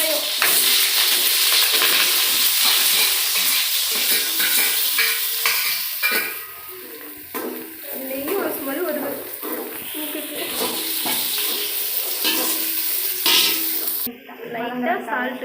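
Green chilies and onion frying in a hot pan while being stirred, a loud continuous sizzle with scraping spoon strokes and pan clatter, and a voice speaking over it in places.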